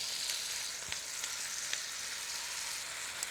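Mushrooms sizzle in a pot alongside bottom round beef browning in fat, a steady, close hiss with a few faint clicks of stirring and no talk.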